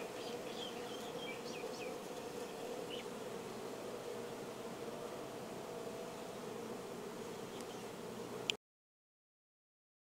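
Honeybees buzz steadily and softly across a frame pulled from a hive, a continuous close hum with faint higher whines from individual bees, cutting off abruptly near the end.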